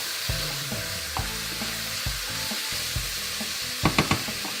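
Split pea soup being stirred in a pot, with scraping and scooping strokes at an irregular rhythm over a steady low bubbling and hiss, and a few sharper knocks near the end.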